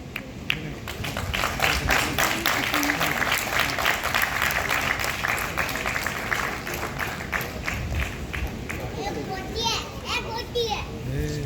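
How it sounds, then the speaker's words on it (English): An audience at an evening performance claps for the guitarists, a dense, steady round of applause that holds for about eleven seconds before thinning slightly at the end, with scattered voices mixed in. "One more round of applause for the guitarists of the evening."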